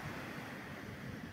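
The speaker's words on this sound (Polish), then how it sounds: "dzisiaj właśnie tak wieje trochę, no i powstały takie dosyć wysokie fale" High sea waves break on a windy evening beach on the Mani Peninsula in Greece, a steady broadband rush of surf and wind buffeting, loud and continuous throughout with no talking.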